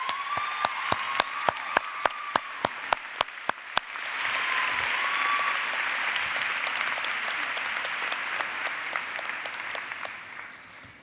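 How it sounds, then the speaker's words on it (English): A commencement audience breaks into applause after a graduate, a master's student in athletic training, is welcomed; a few distinct claps come first, then a dense, sustained wash of clapping fills the hall at moderate volume without speech. "Please join me in welcoming Maranna with a round of applause."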